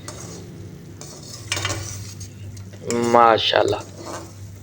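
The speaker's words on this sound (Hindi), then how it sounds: "अब हम इनको अच्छी तरह हिलाएंगे ताकि मसाला जो है वो पकौड़ों को लग जाए" Fried pakoras are stirred into a spice masala in a pan, with scraping stirs and a soft sizzle up close while a voice briefly speaks over them.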